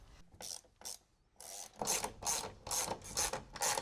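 A ratchet wrench tightens nuts on studs while a camper van rooftop air conditioner is mounted, giving short bursts of clicking and then a steady series of rhythmic, close ratcheting strokes.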